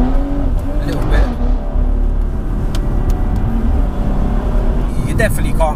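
Tuned BMW M240i with a JB4 at about 420 bhp, pulling hard on full throttle on a wet road, a steady loud engine roar heard close up from inside, with people talking over it throughout.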